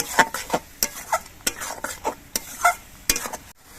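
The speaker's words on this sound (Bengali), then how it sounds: "এবার সব কিছু দিয়ে আরও কিছুক্ষণ কষিয়ে নিতে হবে" A spoon stirs and scrapes a spice paste sizzling in a pan with fried potatoes and young jackfruit for a prawn curry: close, repeated scraping strokes over a soft hiss, with no voices.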